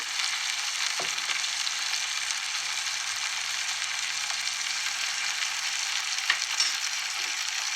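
Ginger paste fries in a pan with a dense, continuous, close sizzle and a few faint clinks of stirring, with no talking.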